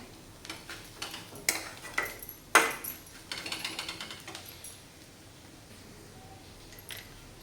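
Peanut coarse powder tossed and sautéed with vegetables in a pan for a Marathi home-style vegetable dish: light scraping and clinking of a spoon against the pan in scattered bursts, close up and fairly quiet, then trailing off.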